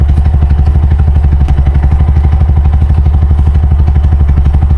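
A small Bajaj RE auto rickshaw engine idles loudly and close, chugging in a fast, even rhythm with a rattling clatter throughout.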